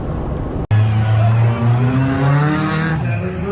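Junk cars race at a Junk Car Jump and Run event in Tennessee, engines droning and revving loudly and continuously, the pitch rising as they accelerate toward the first corner.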